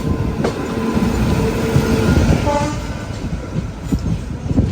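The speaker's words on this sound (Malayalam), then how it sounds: "train number 22654 Hazrat Nizamuddin Thiruvananthapuram central super fast ഇതാ കടന്നു വരികയാണ്" Hazrat Nizamuddin–Thiruvananthapuram Central superfast express train passing close by, a loud rumbling roll of wheels and carriages with a sustained horn blast sounding over the clatter.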